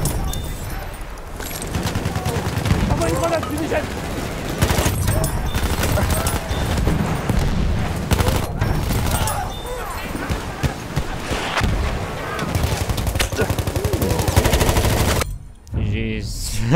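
Dense gunfire and bursts from a World War I shooter game (Battlefield 1) fill the scene continuously, with a player talking excitedly over the din and a brief drop near the end.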